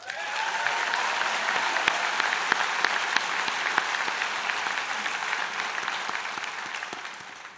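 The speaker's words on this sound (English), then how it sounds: "Give yourselves a round of applause." Graduates at a Mohawk College convocation ceremony for the business, media and entertainment school clap together in a sustained, dense round of applause that fills the hall at steady volume for several seconds.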